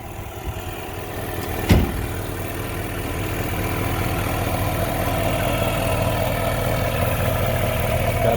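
A 1959 Chevy El Camino engine with a small exhaust leak near the heat riser idles steadily, a close, even low rumble throughout, broken by one brief sharp knock early on.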